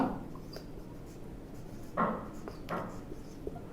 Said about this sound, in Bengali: তো আমি এই জায়গায় লিখলাম আনোয়ার